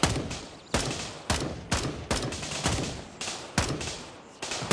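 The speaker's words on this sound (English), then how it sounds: "What are they shooting at? Me, I think, but I can't fucking hit them back." Enemy gunfire in Gray Zone Warfare: a string of sharp, loud shots at a fairly steady rhythm, about eight reports over a few seconds, each ringing out briefly before the next.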